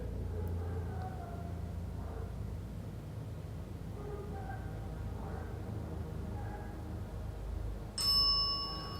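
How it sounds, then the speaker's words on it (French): A single bright bell strike rings out near the end, clear and loud over a steady low background rumble. "La cloche encore, c'est dingue."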